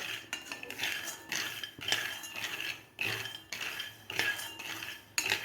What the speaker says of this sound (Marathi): स्लो गॅसवरच आपल्याला ही शेंगदाणे असे खरपूस भाजून घ्यायचे आहेत